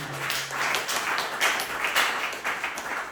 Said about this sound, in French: Applaudissez pour le Seigneur Jésus.